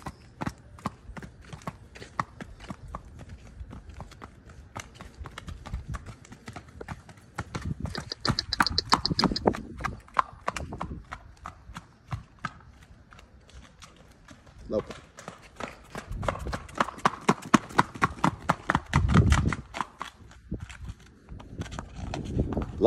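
A black and white mare loping, her hooves giving a quick rhythmic clip-clop at close range, with a person talking over the hoofbeats.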